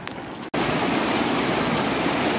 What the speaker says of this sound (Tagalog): Ganda ng agos, no?